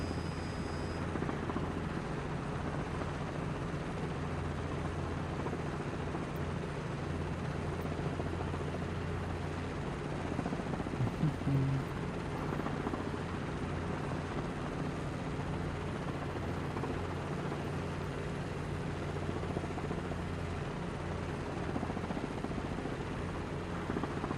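A video game helicopter in autorotation with low rotor speed produces a steady, continuous rotor drone with a low thrumming beat, unbroken and even in level throughout.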